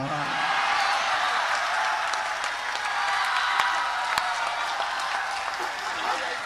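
An audience at a Hindi comic poetry recital claps in a sustained, dense round of applause that stays at a steady level throughout, with a few sharper individual claps standing out from the mass.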